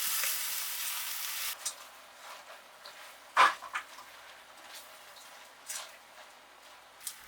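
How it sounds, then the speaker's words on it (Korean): Vegetables with tomato paste sizzle and simmer softly in a pan as their water cooks out, with a steady low crackle, occasional bubbling pops and a few utensil clinks, no talking. "채소에서 물이 나와 자박해진 소리가 들리시나요?"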